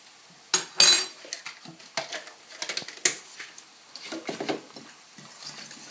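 Eggs, sugar and crème fraîche being mixed together in a bowl for cinnamon biscuits, giving irregular close clinks and scrapes of utensil against the bowl with short quieter gaps between strokes.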